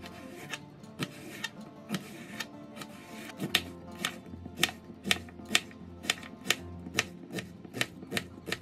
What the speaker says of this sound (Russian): И нарезаю один небольшой кабачок.